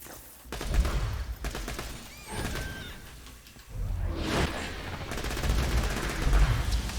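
Rapid bursts of gunfire from a fast-firing weapon in Borderlands 2, used by the siren Maya, crackling in dense volleys with whooshing effects and short pauses between loud, sustained streams of shots.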